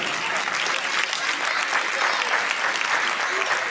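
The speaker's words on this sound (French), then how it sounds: "Vous pouvez applaudir cette belle initiative déjà du Trophée des Champions" An audience applauds at the 2023 Trophée des Champions ceremony, a dense, even wash of clapping held steady throughout, heard alone.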